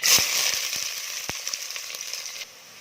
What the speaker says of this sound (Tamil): கடுகு சீரகம் வெந்தயம் போட்டுக்கலாம் வெங்காயம் போட்டுக்கலாம்